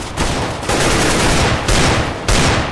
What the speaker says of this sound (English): Why don't you stop shooting me?